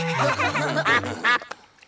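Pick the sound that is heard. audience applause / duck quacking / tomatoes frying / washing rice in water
duck quacking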